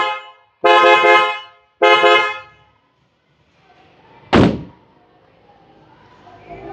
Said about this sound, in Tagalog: we installed two sets combination. PIAA Superior Bass Horn and Sports Horn.